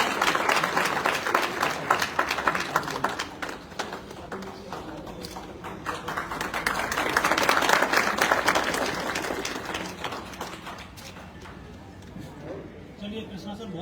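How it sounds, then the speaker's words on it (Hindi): Audience applause greets an invited guest at a motivational stage event, a dense crackle of clapping that swells around the middle and tapers toward the end, with a presenter's voice speaking over it. "जोरदार तालियां।"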